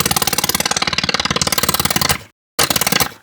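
A synthesized ratcheting noise built in the Phase Plant synth rattles in rapid, evenly spaced metallic clicks, loud and close, then cuts to silence briefly before the ratcheting resumes.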